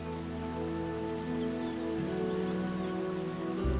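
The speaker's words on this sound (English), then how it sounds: "As the rain falls, tiny rivulets fill up and merge." Steady rain falls in a jungle, a dense, even hiss of drops on surfaces that continues throughout, with sustained tonal sounds running underneath.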